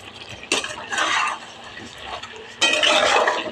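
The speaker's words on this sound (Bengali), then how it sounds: "এই চিনিটা একটুখানি দিলাম বলে একটুখানি নাড়িয়ে নিই ভালোভাবে" Spatula scraping and clinking against a pan while Malabar spinach is stirred with fried pumpkin, potato and prawns, with bursts of stirring noise and someone talking between them.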